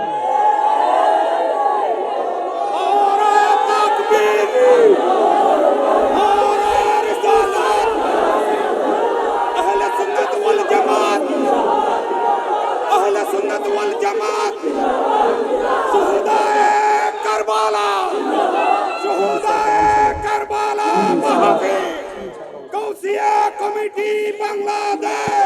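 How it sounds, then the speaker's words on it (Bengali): A large crowd at a religious gathering in Chittagong chants slogans in unison with raised hands, loud and sustained, with rhythmic surges of massed voices that keep going for the whole stretch. "আমার সাথে কে কে আছেন হাত তুলে স্লোগান লন।"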